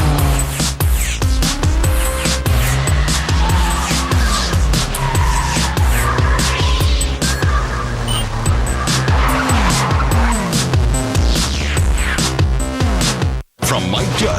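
A car revs and pulls away hard, its tires squealing and skidding loudly in long, wavering screeches over a roaring engine, with a brief break near the end.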